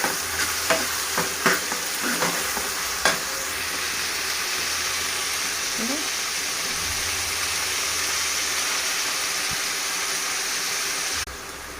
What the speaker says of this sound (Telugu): ఇగో ఇప్పుడు ఒక 1/2 కిలో టమాటా వేసుకొని కొంచెం